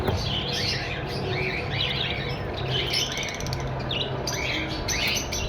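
A pair of albino black split red-eye breeder birds chirps and tweets in repeated short bursts over a constant background hum of other caged birds and noise.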